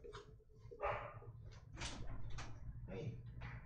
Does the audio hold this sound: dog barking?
yes